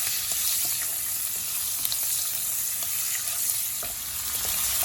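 Green chili, onion and garlic frying together in a pan for Bengali red amaranth leaf stir-fry, a steady close crackling sizzle with scattered sharp pops and stirring scrapes throughout.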